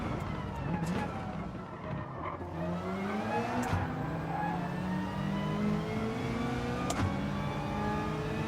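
Racing cars accelerate hard in a Gran Turismo 7 drag race out of a corner, engine notes climbing steadily through the gears with whining harmonics and a shift near the end, loud and continuous throughout.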